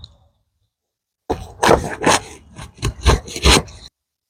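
Knife cutting through a large Vietnamese jackfruit, a few loud close rasping, scraping strokes in quick succession after a short silence.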